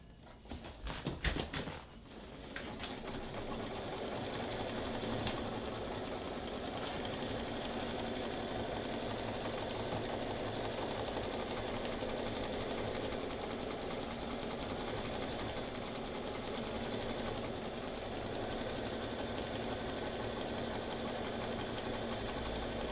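A sewing machine runs a decorative stitch around fabric with a steady, continuous whirring drone after a few brief start-up stutters, fairly quiet and with no talk.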